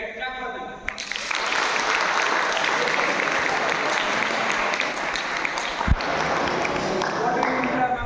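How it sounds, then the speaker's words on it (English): A classroom bursts into applause after a short pause, many hands clapping steadily for several seconds at moderate volume, with a voice audible briefly at the start. "Clap for them."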